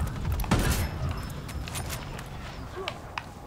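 Gunfire in Ghost Recon Wildlands, a sharp loud shot near the start followed by a few fainter cracks and clatter spread across the rest, with faint game noise underneath.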